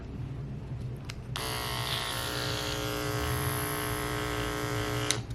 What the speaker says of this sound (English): Here's a little sound test for you guys on how the clippers sound.